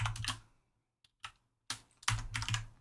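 Bursts of fast typing on a computer keyboard, close and clicky, with a short gap of near silence and a few isolated key taps before a second flurry.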